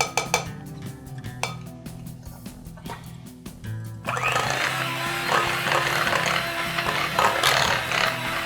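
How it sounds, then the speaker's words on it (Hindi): An electric beater whirring through mango cupcake batter, starting with a clatter of the metal beaters knocking against a bowl, then a steady loud mechanical hum and whir. "बीटर चलाएंगे ताकि सारी चीज़ें जो है वो बिल्कुल यकजान हो जाए"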